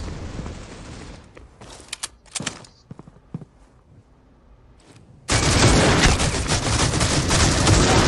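Gunfire in the Critical Ops mobile shooter game: scattered sharp shots and short bursts, then a sustained loud stretch of dense continuous firing that fills the end of the clip.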